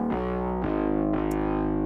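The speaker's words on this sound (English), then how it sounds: "I am distorting it with thermal" A layered synth bass run through Thermal wide overdrive, giving a gritty, distorted tone; three sustained notes change about every half second, loud and up close with no talking.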